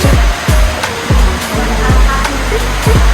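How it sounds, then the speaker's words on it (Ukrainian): A loud, rushing tropical downpour in Phuket, Thailand roars steadily, with repeated low thumping bursts every half second or so. "тайландський дощ."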